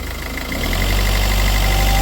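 An Opel Astra J 1.3 diesel engine idles after a timing chain replacement, then its pitch and loudness climb as the throttle opens and it holds a higher, steady roar.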